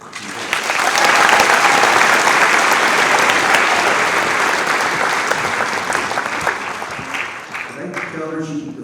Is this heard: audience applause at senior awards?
yes